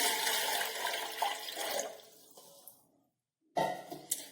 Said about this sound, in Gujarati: તેની અંદર આપણે જે 1 વાટકો ભરીને પાણી લીધું છે તે રેડીશું